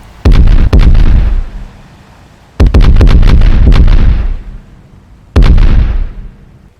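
Three loud, deep booms of cannon fire, each a heavy blast with a long rumbling tail, spaced a couple of seconds apart.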